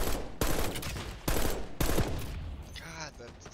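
Sniper gunfire rings out in a video game, three loud sharp cracks spaced about a second apart, each trailing a rolling echo, followed by quieter mechanical clatter.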